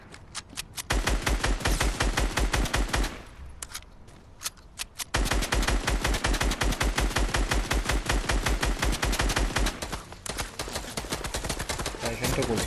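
Rapid bursts of automatic gunfire in Fortnite, loud and close, firing in long rhythmic strings broken by two brief pauses, with a voice speaking faintly in the gaps.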